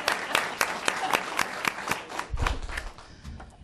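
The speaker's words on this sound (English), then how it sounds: "And it's okay to clap." A small crowd at a city committee meeting breaks into applause for an honoree, a burst of scattered claps that thins out and tapers off toward the end.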